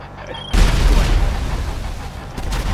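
A loud boom in GTA Online during a club-buying session erupts suddenly and rolls on as a sustained, rumbling blast with crackling debris, no voices over it.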